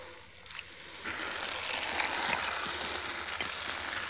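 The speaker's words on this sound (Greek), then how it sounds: "Ρίχνω τις γαρίδες" Shrimp drop into a pot of hot liquid over low heat and break into a steady, bright sizzle that swells after a second and keeps frying evenly, close and alone without speech.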